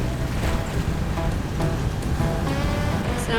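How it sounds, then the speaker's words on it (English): Breaking ocean waves in a tidal stream off the coast near Shelburne, heard from a sailboat as a steady loud surf wash mixed with wind noise on the microphone. "there's a bunch of breaking waves"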